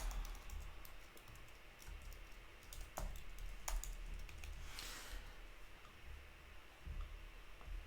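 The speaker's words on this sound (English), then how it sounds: "I'm just typing this out so it's there." Computer keyboard typing, a steady run of close, crisp key clicks with a few sharper louder strokes, alone without talk.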